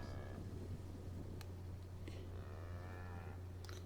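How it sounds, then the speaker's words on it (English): Woolly cows in The Outer Worlds video game low steadily over a constant hum, with one long, drawn-out moo standing out near the end and no talking. "The woolly cow. A couple woolly cows, alright."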